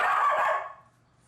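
A small dog gives a single sharp, shrill bark indoors, loud and close, cutting off quickly into quiet.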